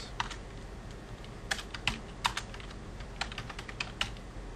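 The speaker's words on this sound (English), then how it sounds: "what I type here is 3 Days Grace" Typing text on a computer keyboard in a video editing session, a quick scatter of light clicking keystrokes, faint and close, over a steady low background hum with no talking.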